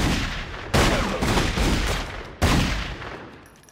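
Sniper rifle shots in The Godfather 2 video game, two sharp loud blasts about two seconds apart, each with a long rumbling echo tailing off.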